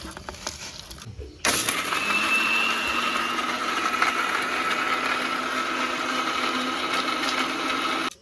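After a brief moment of quieter sounds, a mixer grinder powdering spices starts abruptly and whirs loudly and steadily until it cuts off at the end.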